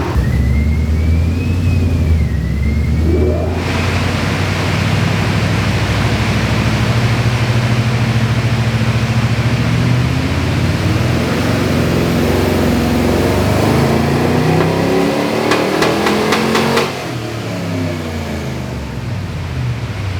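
A Pontiac G8 engine revs roughly while the car is driven, a loud continuous drone under steady road noise that climbs in pitch and surges unevenly before easing off near the end; no one speaks.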